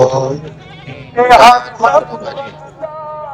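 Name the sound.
goats bleating at a goat market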